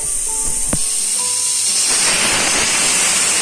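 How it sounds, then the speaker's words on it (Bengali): A pressure cooker whistle releases a loud, steady hiss of steam rushing out under pressure, continuous throughout with a faint clatter early on. "প্রেশার কুকারে সিটিও আমার পড়ে আসছে"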